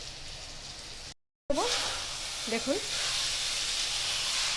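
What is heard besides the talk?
kochur loti (taro stolons) frying in a pan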